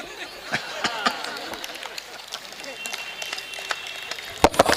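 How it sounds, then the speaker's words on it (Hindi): An audience claps at a Hindi poetry show after a joke, scattered and fairly light applause with sharp individual claps, while the poet keeps talking over it; a few louder claps burst near the end. "और इस बात पे आपने इतनी बढ़िया ताली बजाई"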